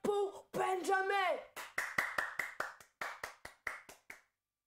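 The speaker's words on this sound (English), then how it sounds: "Applaudisse pour Benjamin." Studio audience clapping for Benjamin on a Rwandan TV comedy show, sharp bursts of applause mixed with a voice, ending in a run of separate hand claps that taper off.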